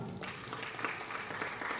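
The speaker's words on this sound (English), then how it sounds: "Let's clap for the outgoing speaker." A youth parliament audience claps briefly for the departing speaker, a soft, fairly distant patter of scattered hands lasting under two seconds.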